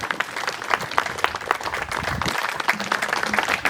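A cultural festival audience applauds performers at a Murthal Mahotsav program, giving dense, sustained clapping throughout with faint crowd murmur.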